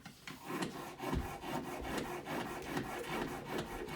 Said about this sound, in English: Got my knife sharpener.